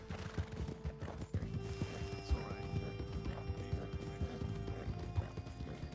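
Horse hooves clip-clopping in a steady trotting rhythm while riding in the Western game RedM, with a snort or whinny and faint mechanical clinks, all fairly quiet.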